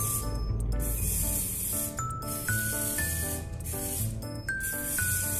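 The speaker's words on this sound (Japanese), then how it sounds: "ライトスプレーを大量に振る感覚が、やっぱ、一番いいですね" Hair spray hisses in long continuous bursts onto permed hair during styling, loud and close, repeated with brief pauses, over steady background music.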